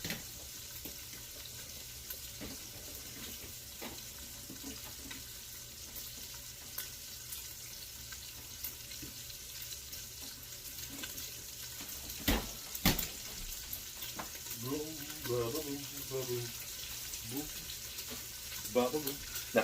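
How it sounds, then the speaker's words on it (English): Vegetables sauté in a pot of butter and bacon grease for keto clam chowder, a steady soft sizzle running throughout with a few utensil clatters, and a voice speaks briefly near the end. "and then we're going to saute the veggies."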